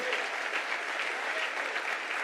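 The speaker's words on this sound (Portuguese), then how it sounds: "Será que nós podemos dar uma salva de palmas ao Senhor?" Church congregation giving a round of applause, dense and steady clapping from many hands filling the room at even loudness throughout.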